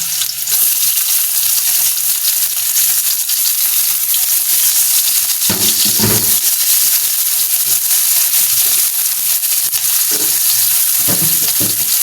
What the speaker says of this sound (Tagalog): Ang ating gigisa. Sapasok na dito ating karne.